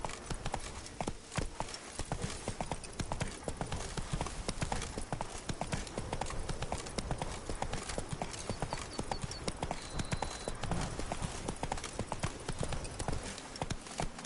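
Roach the horse trots with steady, rapid clip-clopping hooves in The Witcher 3, a continuous close rhythm of crisp hoof strikes.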